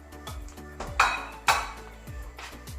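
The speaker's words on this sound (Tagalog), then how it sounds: "So, haluin lang natin siya ng mabuti." A spoon stirs chicken arroz caldo with oatmeal in a pot, producing several close metallic clinks and scrapes against the pot sides in an irregular rhythm, with two louder knocks.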